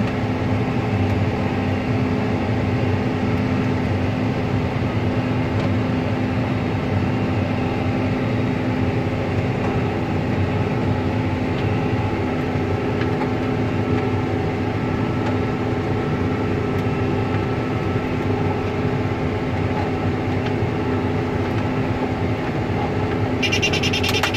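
A farm baler out in a field, gathering haylage bales, runs as a steady, loud machine drone with a constant engine hum through the whole stretch, no talk over it.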